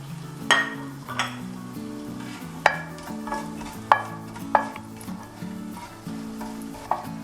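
Star anise, cloves, cinnamon, cardamom and peppercorns fry in hot oil for chicken biryani, giving a steady low sizzle punctuated by sharp metallic clinks of a spoon stirring against the pot at irregular intervals.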